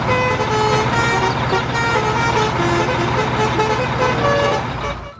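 A toy bus plays its telolet horn, a loud, continuous, musical multi-tone melody of shifting honks heard close up that fades out at the end.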